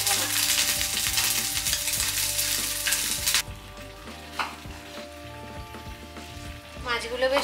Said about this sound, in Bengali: মাছগুলো বেশ ক্রিস্পি করে ভাজা হয়ে গেছে